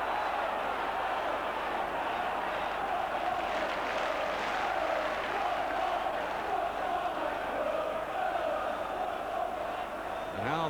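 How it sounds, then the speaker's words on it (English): Football stadium crowd at a Spurs versus Newcastle United match, a steady dense roar of cheering and chanting that fills the whole stretch, loud and continuous with swells of voices. "And how the crowd are enjoying this."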